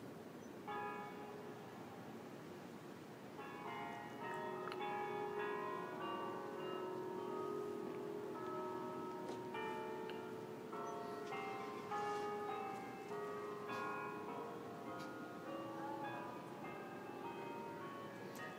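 Church bells ring the five o'clock hour in a steady, layered peal that continues throughout, with overlapping tones of several bells heard from a moderate distance.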